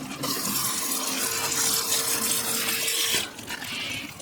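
Water pours steadily onto a potted plant, a close, even splash and trickle with a faint tonal hum that stops abruptly near the end, followed by quieter dripping and rushing.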